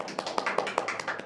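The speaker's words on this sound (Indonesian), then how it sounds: "Tepuk tangan. Tepuk tangan." A few people clap hands in a podcast studio, a quiet, steady run of sharp claps at roughly even intervals, close and fairly soft, with no talk over them.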